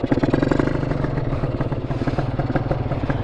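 A motorcycle fitted with a PWK 30 carburetor and a reamed 32 runs on a test ride, its engine chugging and rumbling loud and close with a steady rapid pulse.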